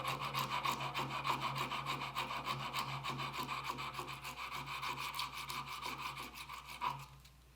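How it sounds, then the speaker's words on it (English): Sandpaper rubs back and forth over the lugs of a curly koa wood dagger handle in quick, steady strokes, close and fairly loud, with a rhythmic rasp that stops abruptly near the end. "I'm going to clean my lugs up and get them completely sanded out"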